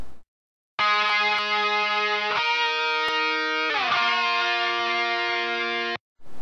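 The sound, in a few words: harmonized electric guitar tracks with radio-style EQ, panned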